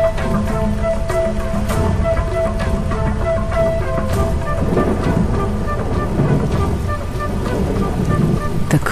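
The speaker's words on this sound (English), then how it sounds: "The cool downpour provides long-awaited relief from the heat" Dense, steady rush of heavy rain pouring down, a continuous wash of noise with no pauses.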